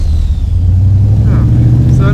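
An AC Cobra's engine drones with a low, steady rumble as the car drives from a race track, loud and close, with a voice partly heard over it.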